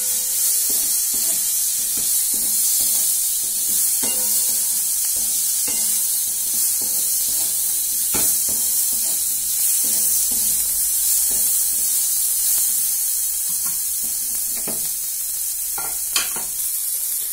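Dried lote fish is stirred in a pan with fried onions and dried red chillies, giving a steady loud sizzle broken by repeated scraping and clinking spoon strokes, with no voices.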